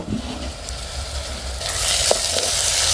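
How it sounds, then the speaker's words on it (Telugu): Chopped onions, tomato pieces and green chillies sizzle in hot oil for a Konaseema raw prawn curry, a steady close frying hiss that swells louder as the pieces settle into the pan. "నూనె కాగిన తర్వాత మనం ఉల్లిపాయలు కట్ చేసిన ముక్కలు కూడా వేసేసుకోవాలి"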